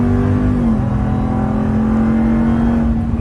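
A 2022 Ram TRX Ignition Edition truck accelerates hard, its engine droning loudly and steadily from inside the cabin with a slight pitch shift, no voices over it.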